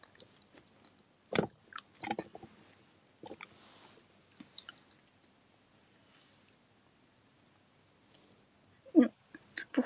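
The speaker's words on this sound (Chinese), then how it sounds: "不会这种咀嚼的声音很响吧？" Someone chews a seedless melon close to the microphone, giving soft, wet, crunchy bites in scattered bursts with quiet gaps between, and a louder cluster near the end.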